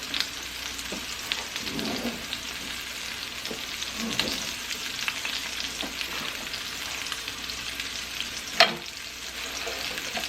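Food browning for gravy sizzles steadily in a hot pan, a continuous frying hiss broken by a few scrapes and stirring clinks, with one sharper clatter near the end and no talk.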